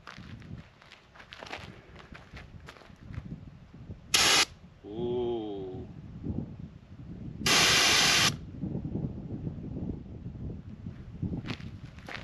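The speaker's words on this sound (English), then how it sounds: "press trigger for 3 seconds in order to create a barrier of spray" A pepper spray canister fires two short bursts at a campsite to form a barrier of spray, loud hissing blasts of about a third and nearly a full second, with footsteps and rustling around them.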